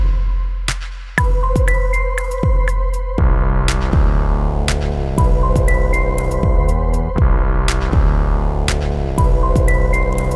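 Electronic music from the ROLI NOISE app on an iPad: a looping beat of deep pulsing bass hits with sustained synth tones and bright high notes layered over it, steady and loud, with no voices.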